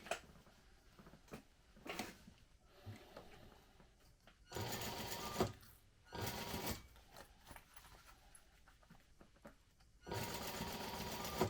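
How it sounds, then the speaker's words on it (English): A sewing machine stitches a quarter-inch seam around a crossbody bag in several close bursts of rapid mechanical whirring, separated by quiet pauses, with no talk. "I'm going to stitch at 1/4 of an inch all the way around."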